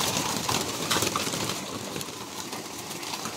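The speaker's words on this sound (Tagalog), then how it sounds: "Ang ating mga ibon yan, miss na nila yatang kumain." Several pet pigeons or doves cooing and calling in a dense, continuous chorus, close and steady throughout, with a faint mechanical hum underneath and no talking.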